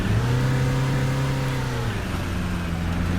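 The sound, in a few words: bus engine revving in Fernbus video game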